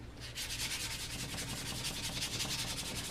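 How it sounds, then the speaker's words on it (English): Hand sanding with 220 grit sandpaper to smooth a dried, filled surface: continuous rapid back-and-forth scraping strokes, close up and steady, with no talking. "Now we're just going to sand this down so that it's nice and smooth."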